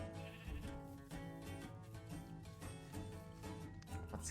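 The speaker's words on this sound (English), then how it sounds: "Hello, sheep." Sheep bleating in a Minecraft video game, a series of wavering tonal bleats over roughly four seconds, moderately close and fairly quiet, with no talk.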